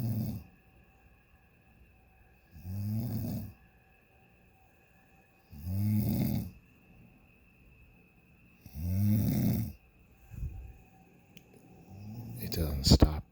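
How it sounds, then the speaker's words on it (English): Loud, heavy snoring repeats in regular bursts about every three seconds, each a rough, rattling breath with near silence between, ending in a few quicker, louder snorts. "It's just a freight train of snoring."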